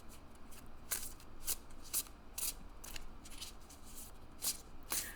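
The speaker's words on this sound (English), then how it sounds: "So I'm just kind of shuffling hand over hand here." Tarot cards shuffled hand over hand, sharp papery riffles repeating roughly every half second in an uneven rhythm, close and fairly quiet, with no speech.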